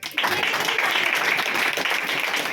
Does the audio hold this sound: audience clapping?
yes